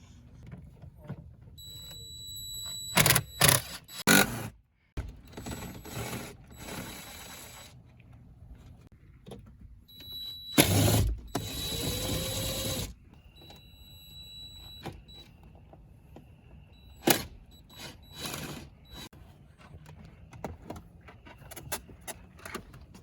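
An instrument cluster is pried out of a Ford Fusion Sport dashboard in a garage: sporadic plastic clicks, snaps and short squeaks come in scattered bursts over a quiet background.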